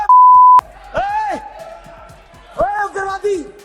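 A steady censor beep covers a Hindi political speech at the start, one flat sustained tone about half a second long, followed by loud shouted speech from the speaker.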